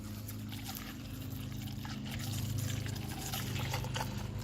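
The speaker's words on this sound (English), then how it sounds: "When you're pouring it in there, it does bubble up." Concentrated black touchless car wash soap is poured into a container, a steady trickling, gurgling liquid stream that grows fuller and louder partway through, with no talking.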